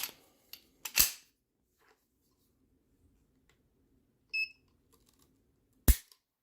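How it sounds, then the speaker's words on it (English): Sharp, dry clicks from a Browning Hi-Power trigger breaking as it is pulled against a trigger scale, a few crisp snaps spaced seconds apart in a quiet room with small handling ticks between them. "we'll just do an average of, say, 5 trigger breaks"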